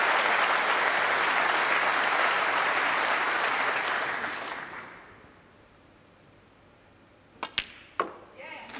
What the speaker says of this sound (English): The crowd acknowledge frame ball.